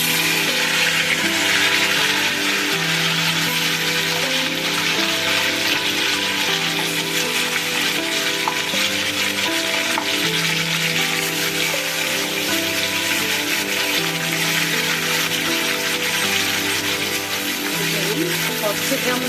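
Marinated chicken dropped onto spiced oil with cloves in a pan for Golbari-style chicken kasha, giving a steady, loud sizzle and crackle that holds evenly throughout, with no talk over it.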